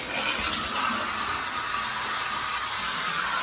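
Hotel bathtub tap turned on, water running steadily into the tub as a broad, constant rush with no pauses, fairly close and fairly loud, with nobody talking over it.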